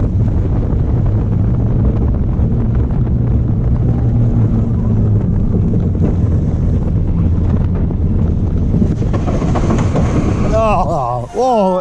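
The 1981 Python steel roller coaster at Efteling rumbles along its track, a loud onrush of wind buffeting the microphone over a low mechanical roar, ending in a screeching brake squeal, with a rider's voice faintly mixed in.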